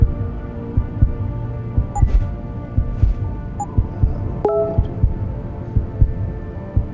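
Heartbeat sound effect from the video game Deus Ex: Human Revolution, a steady series of deep, muffled thumps under a low hum, with occasional faint interface blips and clicks in between.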